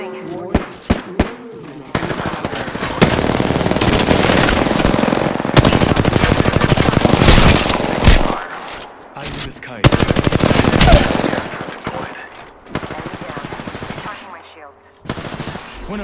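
Gunfire in the Apex Legends video game: long, loud bursts of rapid automatic fire close by, broken by short pauses and single shots, with brief quiet gaps between volleys.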